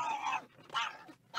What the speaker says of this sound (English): That dog does not want to go to PetSmart.